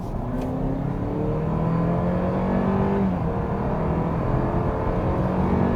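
A 2021 Opel Insignia GSi with all-wheel drive accelerates hard from 50 to 100 km/h. A steady, loud engine drone climbs in pitch through the gears, with one brief shift dip partway through.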